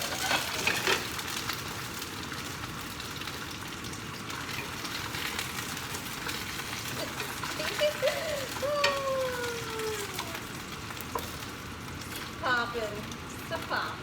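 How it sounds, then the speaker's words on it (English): Kielbasa frying in a pan gives a steady, close sizzle with scattered pops and crackles, and a few faint voices come through in the background. "The kielbasa is what's popping right now"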